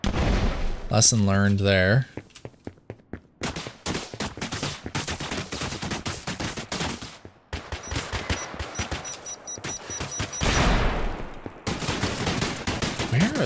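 Rapid bursts of automatic gunfire in the Exverse web3 first-person shooter keep crackling for most of the stretch, mixed with sharp single shots and booms, while a player talks over the firefight.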